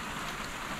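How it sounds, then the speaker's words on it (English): Heavy rain falling steadily outdoors, a dense continuous hiss of drops close and loud, with no voices. "Is the rain ever gonna stop?"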